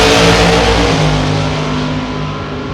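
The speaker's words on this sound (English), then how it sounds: "It's going to be Marty Blair, the Corvette, getting it done" Drag racing cars, including a Corvette, roar down the strip at launch on a Saturday at Gainesville, a loud sustained engine howl that slowly fades as they pull away.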